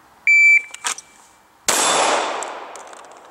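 A shot timer gives a single sharp electronic beep, followed by a loud metallic clang with a fading ring on a shooting range, with a few faint clicks between them.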